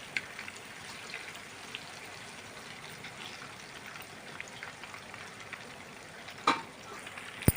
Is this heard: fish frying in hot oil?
yes